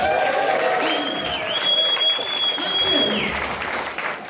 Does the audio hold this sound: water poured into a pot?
no